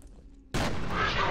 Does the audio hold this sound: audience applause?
no